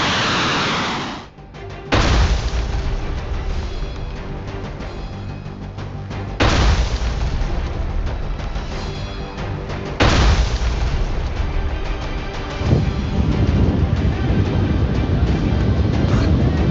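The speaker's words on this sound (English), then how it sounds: "Missiles and rockets pounded targets in Yemen." Missile and rocket strikes hitting targets in Yemen: loud, deep booms and rolling roars arrive in several heavy bursts, each swelling and lingering into a rumbling wash of noise.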